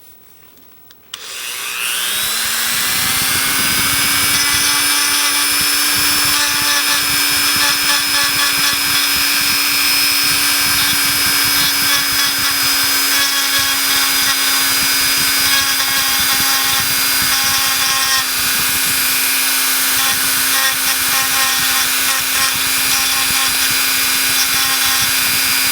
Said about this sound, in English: I'm going to have to Dremel this hair off a little bit near the front